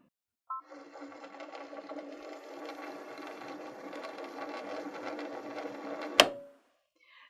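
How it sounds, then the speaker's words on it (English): A sewing machine winds thick thread onto a bobbin at its slowest speed, giving a soft, even mechanical whir that starts with a click, runs for about six seconds and stops with a sharp tap. "So when I move the lever over to start winding and the message appears on screen, I'm just going to make sure that it's all the way at the slowest setting"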